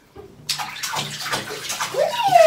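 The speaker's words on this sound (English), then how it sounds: "you're going to get water in his eyes" Water splashes and pours in a bathtub while a child's hair is washed, steady sloshing close by with brief voices over it.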